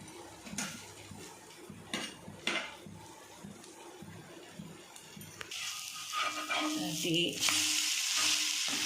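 Black chickpea adai dosa batter cooks on a hot pan with a soft, continuous sizzle, broken by a few light clinks of utensils before the frying grows louder and brighter toward the end.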